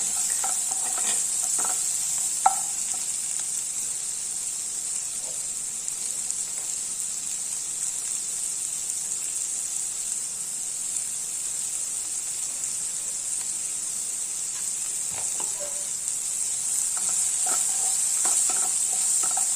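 Tomatoes with a little salt sauté in a pan for dal tadka, giving a constant bright hiss of frying with occasional light stirring clicks near the end, close and steady, without speech.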